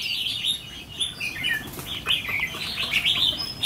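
Red-whiskered bulbuls, including a trained decoy bird, call outdoors with bright, rapid chirps and tweets. The calls are fairly close, come in quick bursts and are mixed with light wing flutters.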